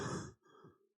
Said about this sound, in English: we can hear you breathing, dude.